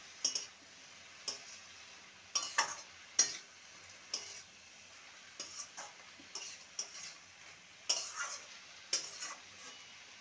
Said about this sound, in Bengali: ভালো করে নেড়ে নেব।